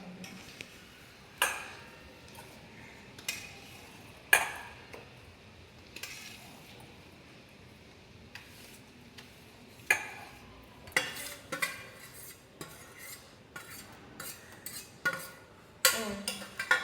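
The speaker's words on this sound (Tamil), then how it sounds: "இப்போ வந்து நம்ம இந்த பவுடரை கப்பில் போட்டுட்டு மில்கை ஆட் பண்ணி மிக்ஸ் பண்ண போகிறோம்" Powder and milk are mixed in a cup, heard as sparse clinks and taps of a spoon against the cup, with short scraping strokes in quiet surroundings and no talking.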